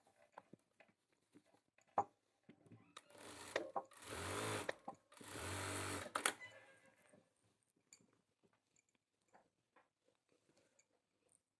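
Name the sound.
sewing machine stitching a men's kurta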